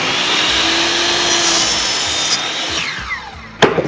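Power saw cutting a board, a continuous loud high whine held for about three seconds that then spins down, ending with a sharp knock.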